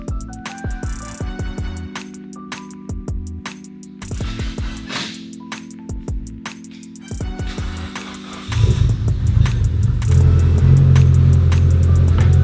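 A Mitsubishi Evo idles and is driven off the ramps, its engine rumbling steadily with intermittent clanks, then revving louder near the end as it rolls down.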